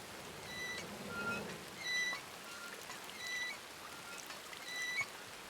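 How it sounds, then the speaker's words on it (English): Steady rain patters in a roleplay video game, a soft continuous hiss with faint trickling, broken by repeated bright chirp-like tones that rise above the wash at intervals. "It's raining."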